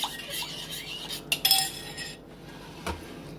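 A spoon stirs ingredients for slow cooker maple mustard corned beef, giving a few soft scrapes and clinks against the dish, with a couple of brighter taps standing out in a quiet kitchen.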